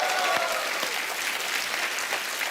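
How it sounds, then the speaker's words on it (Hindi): A studio audience on The Kapil Sharma Show breaks into dense, even applause for a legendary singer, the clapping loud and continuous throughout. "एक बार जोरदार तालियां हो जाए उनके लिए।"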